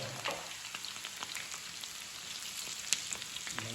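Pieces of curry frying in a pan until golden brown give a soft, continuous crackling sizzle with scattered small pops, close but fairly quiet.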